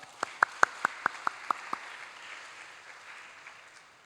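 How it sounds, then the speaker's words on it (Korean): A short burst of eight evenly spaced, crisp claps at a Sunday church service rings out faintly for under two seconds, then gives way to a quiet, hushed room. "우리 박수로 좀 격려하도록 하겠습니다"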